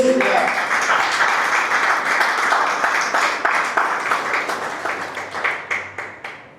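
A church congregation at a Spanish-language sermon breaks into loud applause, a dense burst of clapping that thins into slower rhythmic claps as it fades toward the end.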